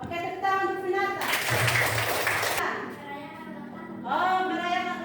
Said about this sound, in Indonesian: Oke, tepuk tangan untuk binatang.